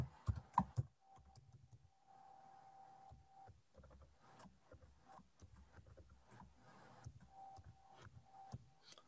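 Fingers type a password on a computer keyboard in quick, uneven bursts of close, crisp key clicks with short pauses between, and a faint steady hum sits underneath.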